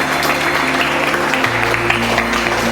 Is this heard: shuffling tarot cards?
no